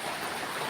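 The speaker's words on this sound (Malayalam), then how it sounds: "ആ മഴ തുള്ളി പൊട്ടുന്നുണ്ട് ചെറുതായിട്ട്" Light drizzle falls under dark clouds, a soft, even hiss of fine droplets, faint and steady throughout with no voices.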